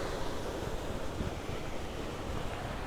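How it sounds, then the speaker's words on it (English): Small mini waterfalls in Bali give a constant, even wash of rushing water heard from a short distance, with no voices and no clear breaks. "little mini waterfalls down here"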